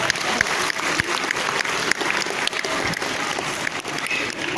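Steady audience applause fills a science festival hall, dense clapping from a large crowd with a few individual claps standing out.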